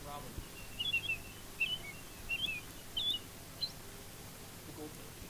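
A man whistles in imitation of an American Robin's song, giving four short bright chirping phrases spaced about a second apart, then a brief final note, over faint background hiss.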